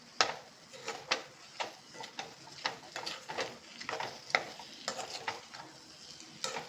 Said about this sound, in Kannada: ನುಗ್ಗೆಕಾಯಿ ಹಾಕ್ಕೊಂಡು ಮಿಕ್ಸ್ ಮಾಡ್ಕೊಳ್ಳೋಣ